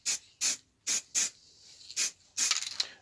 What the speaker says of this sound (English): So I'll give this a quick spray